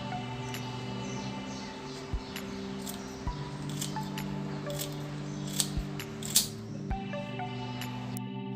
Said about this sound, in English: which again I'm going to snap them with my scissors.